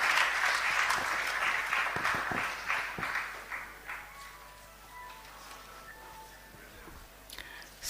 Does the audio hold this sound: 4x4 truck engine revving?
no